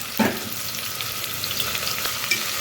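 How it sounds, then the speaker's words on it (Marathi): Chopped onion sautés in hot oil for misal, giving a close, steady sizzle with crackles and the scrape of stirring, with no talking. "कांदा थोडासा आता परतून घ्यायचा आपल्याला"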